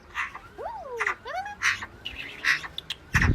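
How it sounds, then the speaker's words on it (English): A muddy magpie calls with a few chattering, whistled notes spaced across a few seconds, close by and fairly loud, ending in a harsher burst. "This muddy magpie hasn't had a bath yet."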